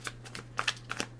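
A deck of tarot cards being shuffled, giving a quick run of soft, close riffling flicks and taps over a low steady hum, with no talking.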